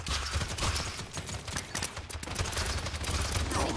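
Enemy gunfire in the video game Paladins, a dense run of rapid shots layered over a noisy battle soundscape, loud and continuous throughout.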